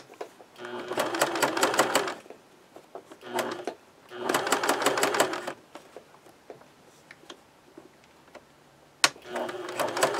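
A home sewing machine stitches a simple fabric pencil bag in three loud, whirring bursts of rapid needle strokes. Short pauses of quieter handling noise separate the runs.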